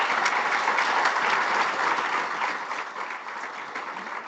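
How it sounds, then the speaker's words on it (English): An audience at a morning forum session on prescribing and deprescribing breaks into sustained applause, dense and steady from the start and easing slightly toward the end, with no voices over it. "Can you please give them a round of applause?"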